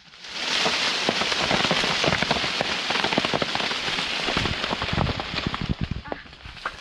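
A dense, loud patter of Java plum fruits raining down onto a surface, continuous at first and thinning into scattered individual thuds toward the end.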